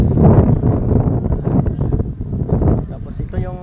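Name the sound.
strong wind blowing on the phone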